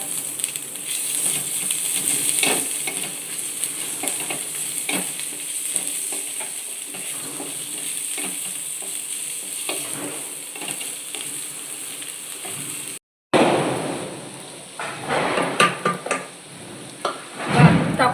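Bay leaf, pepper and garlic crackling and sizzling in hot oil in a pressure cooker, steady frying with stirring scrapes, a brief cut near the end followed by louder, closer spattering.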